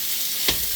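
Firm tofu frying in a stir-fry pan, a steady hot-oil hiss with one brief sharper spatter partway through, close and without voices.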